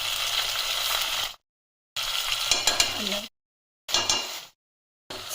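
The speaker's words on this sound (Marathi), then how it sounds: "आता अद्रक लसूण कुटून तेलावर टाकले मस्त" Crushed ginger and garlic sizzling in hot oil, a loud bright frying hiss with stirring scrapes, broken by abrupt silent gaps between bursts.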